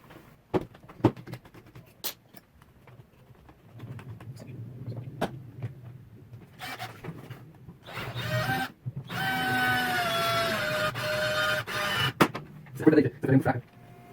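A battery drill running low on charge bores a hole in a fife, its weak motor whirring in uneven bursts after scattered clicks and handling knocks.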